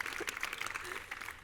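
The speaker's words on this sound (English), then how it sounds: "give yourselves a round of applause" A panel-event audience claps in a steady wash of applause, dense and even but fairly quiet, like a crowd heard from the stage.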